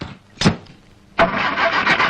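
A car engine cranks and catches, a short burst followed by a steady running idle that continues to the end.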